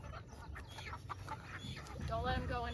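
Chickens clucking and squawking as they are carried indoors, moderately close, with their calls rising toward the end over a low rumbling background and some voices nearby.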